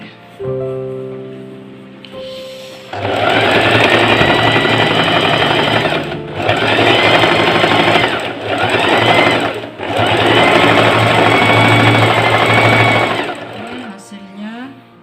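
A sewing machine stitches the neck section of a traditional Kadazandusun garment, running in loud, steady whirring bursts with short pauses between them, close by, after a brief voice at the start.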